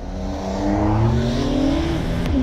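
Old combustion-engine car with no electronic aids launching hard from a standstill, the engine note rising steadily in pitch as it accelerates, loud and close, with a brief shift near the end and no talk.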